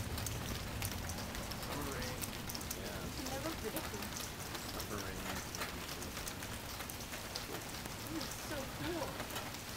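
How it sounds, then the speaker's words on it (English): Rain patters steadily on surfaces during a thunderstorm in Sacramento, a dense, even hiss of drops with no audible speech. "Oh, and it just started raining."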